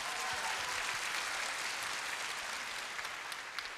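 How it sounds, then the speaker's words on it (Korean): An audience claps for the four special award winners at the 2003 12th Korea Supermodel Contest, with continuous, even applause in a large hall that tapers slightly at the end. "여러분 다시 한번 특별상 수상하신 네 분께 뜨거운 박수 부탁드리겠습니다"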